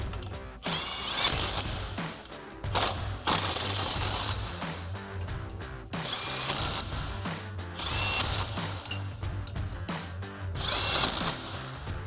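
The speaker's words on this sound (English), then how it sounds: "we'll go ahead and tighten those down with a 19 mil deep well socket on our impact" Impact wrench with a 19 mm deep socket tightening hubcentric wheel spacer nuts on a 2010-2024 Camaro, heard in repeated loud rattling bursts separated by short pauses, close up with no talking.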